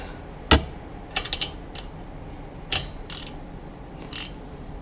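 A wrench tightens a motorcycle oil drain plug, giving a few close, quiet ratcheting clicks and metallic ticks spaced irregularly over a faint background hiss.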